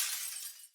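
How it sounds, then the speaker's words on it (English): Glass-shattering effect layered onto a dubstep kick drum, a single bright crashing smash that rings out and decays quickly, with a faint trailing tinkle. "there is glass breaking on every kick, just to give it more impact"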